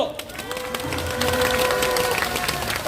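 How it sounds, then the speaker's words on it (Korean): Crowd at a Wednesday rally in Korea clapping to welcome a peace network representative, a short burst of applause and murmur that swells toward the end, with a tonal hum running beneath. "허수경 대표님을 힘찬 박수로 모시겠습니다"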